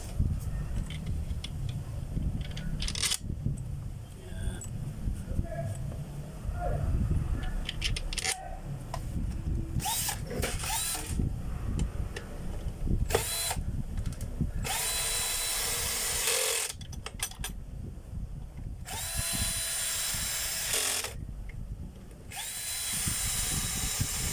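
A power drill drives a screw in bursts of whirring, with short pauses between runs and a few clicks and knocks of handling, close by.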